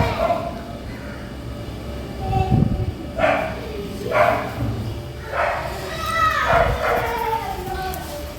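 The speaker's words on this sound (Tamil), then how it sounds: "இங்கே ஒரு நாய் வேறு குலைச்சிக்கிட்டே இருக்குது" A dog barks several times at a distance during an outdoor Krishna Jayanthi festival, with sharp, irregular yips, and a person talks over the barking throughout.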